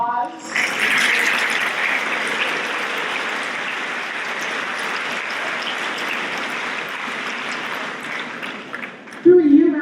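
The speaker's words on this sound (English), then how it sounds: "Give these folks a huge round of applause." An audience at a high school spring awards assembly breaks into sustained applause, a dense steady wash of clapping lasting several seconds before fading, followed by a voice starting to speak.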